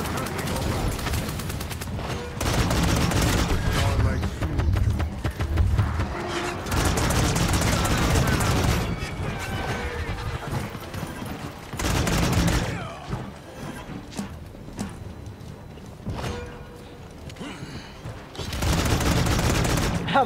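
Gunfire in the video game Paladins: loud, rapid bursts of shots crackle in several separate volleys, with short quieter gaps between them.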